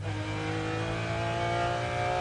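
A McLaren F1 race car at Le Mans accelerating out of Arnage corner in third gear, its engine droning with a steady, sustained tone at moderate distance.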